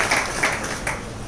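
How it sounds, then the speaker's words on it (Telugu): A church congregation claps together in a short, lively burst, several swelling pulses of many hands close by, with no speech over it. "గట్టిగా చప్పట్లు కొడదాం."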